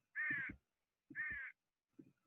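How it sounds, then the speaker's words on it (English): Crows give two harsh, evenly spaced caws and then a fainter third call, each short and raspy, set against silence. "the birds."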